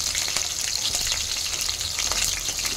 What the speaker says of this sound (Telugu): పచ్చిమిరపకాయలు వేసుకుంటా ఉన్నానండి